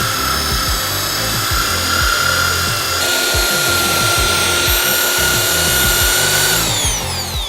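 An electric drill spins a brush inside a bucket of potatoes and water, giving a steady loud motor whine with a rhythmic churning, sloshing scrub running continuously throughout, no voices.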